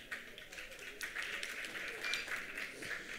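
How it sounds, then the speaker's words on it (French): Applause from the audience at an international conference on age-friendly cities and communities, a continuous spread of clapping heard at some distance, fairly faint and sustained. "Elle vous remercie de vos applaudissements nourris et enthousiastes."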